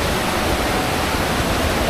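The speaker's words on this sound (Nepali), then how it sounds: "यहाँ खोलाहरू त रहेछ यस्तो डरलाई राख्दो" Rushing water at Indreni (Rainbow) Falls in Darjeeling roars as a steady, dense broadband wash, close and loud, with no breaks or voices.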